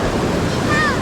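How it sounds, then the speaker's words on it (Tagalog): Big ocean waves breaking on a shore at a river mouth, a loud, continuous wash of surf with wind buffeting the microphone, brief and close. "so na laki ng alon dito, umpisa na."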